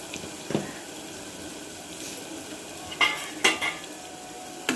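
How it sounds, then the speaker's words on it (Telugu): Mutton being mixed with turmeric and chili powder in a pot, with a few soft scraping and clinking stirs against the metal over a quiet kitchen background, no talking. "అన్నీ వేసుకొని మిక్స్ చేసుకోవాలి."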